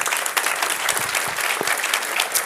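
A conference audience claps steadily and continuously after a technical talk, a dense even wash of applause with no voices standing out.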